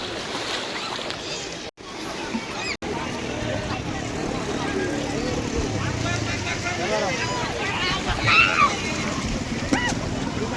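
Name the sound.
speedboat ride on the sea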